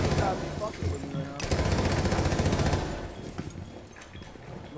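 Rapid automatic gunfire rattles in a fast shooter video game, dense bursts close up with a player talking over parts of it.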